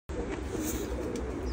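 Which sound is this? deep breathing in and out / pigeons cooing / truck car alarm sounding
pigeons cooing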